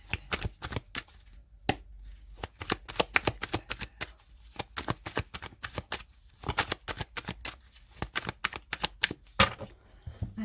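A tarot deck being cut and shuffled up close: crisp, rapid riffles and sharp card taps in irregular bursts with brief pauses, alone and without talk.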